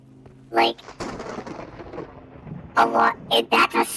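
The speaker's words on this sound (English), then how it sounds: "That's a storm." Thunder rolls through a video game storm, a low rumbling swell in the middle, while a person talks over the start and the end.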